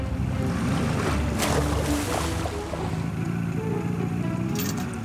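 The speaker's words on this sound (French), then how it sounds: "Et fais bien attention aux vagues" Ocean waves roar in a continuous, loud wash of surf, with swelling splashes and no voices.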